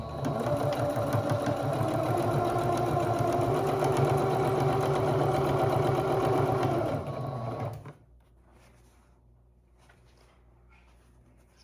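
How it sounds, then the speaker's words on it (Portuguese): A sewing machine stitches two pieces of old denim together in a loud, steady, fast mechanical whir that runs for about eight seconds and then stops, leaving near silence. "Vou unir aqui as duas peças, peraí. Eu vou costurar aqui as duas."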